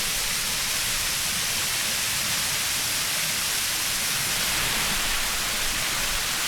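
A waterfall at Yedang Lake roars in a constant, dense rushing hiss, loud and unbroken throughout, with no voices.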